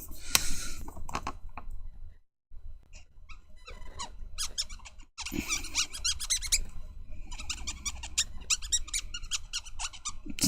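A yellow marker pen squeaks across pattern paper in repeated short strokes, a dry high-pitched squeak coming in bursts with brief pauses between, close and fairly loud, with no talking.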